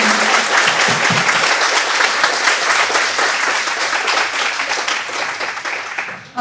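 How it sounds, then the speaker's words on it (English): Sustained applause from an audience cheering a panel of speakers, dense steady clapping filling the room at full strength before tapering off at the end. "One last round of applause to these amazing panelists."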